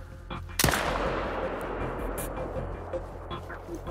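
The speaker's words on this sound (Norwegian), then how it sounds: "Det der tror jeg var et ganske valid skudd." A single sharp gunshot cracks loudly in a hunting video game, then rolls into a long fading echo over a low rumbling background.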